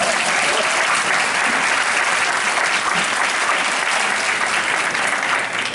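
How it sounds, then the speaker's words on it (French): A fan meet crowd at a Harry Potter village event in Montévrain applauds the organizers, a loud, continuous wash of clapping from many hands that holds steady for several seconds before easing slightly at the end. "On peut les applaudir s'il vous plaît."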